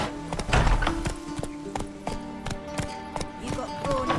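Roach the horse gallops in The Witcher 3, a steady run of hoof thuds over rumbling game ambience and music, with speech-like game audio mixed in.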